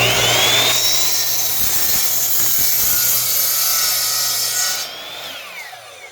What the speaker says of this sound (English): now that's called a compound miter cut right there